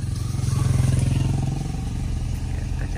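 A motorcycle engine on a narrow forest road in Kalimantan, a steady low drone that swells slightly then holds as the bike nears, fairly close with no talk over it.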